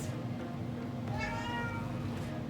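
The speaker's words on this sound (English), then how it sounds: "My cat's here today, did you hear him?" A pet cat named Sylvester meows indoors, a drawn-out, rising-and-falling call from close by over a steady low room hum, with no talking.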